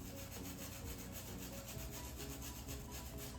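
Continuous crackling and sizzling of supplì al pomodoro, crispy Italian rice balls, frying in hot oil, steady and close, with no voices.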